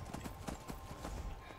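Horse hooves clip-clop in a steady rhythm in the video game Skyrim, the thuds fairly faint under continuous game ambience, with no clear whinny standing out.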